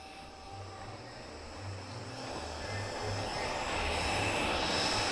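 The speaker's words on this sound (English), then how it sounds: "Auto Gyro is just taxiing as well." An autogyro taxis at an airshow, its engine making a steady droning hum that grows slightly louder over the clip, heard from a moderate distance with no voices.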